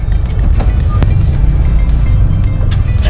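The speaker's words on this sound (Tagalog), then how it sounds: "medyo traffic" Road traffic on a street in Sampaloc, Manila, a loud continuous rumble of car engines with passing vehicles and a brief horn-like tone, close by.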